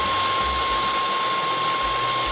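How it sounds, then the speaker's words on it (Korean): Cordless vacuum cleaner running in turbo mode with a crevice brush attached, a steady loud whine and rushing airflow with a thin high tone, continuous and close. "자, 이렇게 터보 모드에서 틈새 브러쉬 끼고 구석구석 청소하면"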